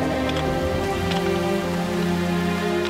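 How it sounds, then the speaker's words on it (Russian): Heavy rain pours steadily at night in a documentary scene about Dresden, a dense continuous hiss of drops on surfaces, loud and even, with sustained musical tones beneath. "Ночью пошел сильный дождь"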